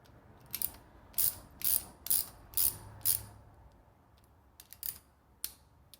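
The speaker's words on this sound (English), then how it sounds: "I can take a wrench with a 10 mil" A 10 mm wrench ratchets in short bursts while tightening a brake line flaring tool, with about half a dozen crisp clicking runs close up in a quiet room, and no talk.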